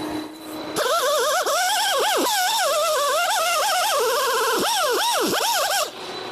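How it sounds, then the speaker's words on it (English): An angle grinder shapes metal for a homemade planishing hammer, a loud whining grind with pitch dipping and rising as it bites the workpiece, then spinning down. "now it's as simple as shaping the rest with a grinder"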